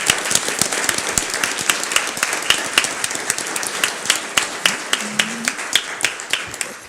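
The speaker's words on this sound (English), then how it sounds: "I think we should stand up and give her a round of applause." A panel discussion audience gives a round of applause, with sharp individual claps standing out against a dense, steady patter of clapping that holds throughout.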